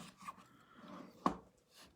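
Wood filler is packed and pressed into hardware holes in furniture, giving faint, soft rubbing and scraping strokes with one sharper scrape partway through, close and quiet.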